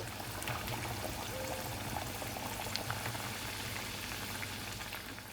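Chicken vada batter dropped into hot oil and frying for a mutton-style vada: a steady, dense bubbling sizzle that holds evenly throughout, close and loud, with no voices over it.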